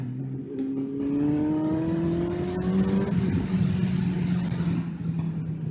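Suzuki GSR 750 motorcycle under way, its engine note rising steadily through the gears in a loud, continuous near drone, with a brief shift partway and steady wind and road noise beneath.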